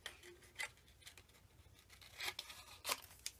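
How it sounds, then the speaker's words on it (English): Scissors snip through layers of paper and vellum in a few faint, quick cuts, close by and quiet, with no talking. "in fact I'll probably just use my scissors"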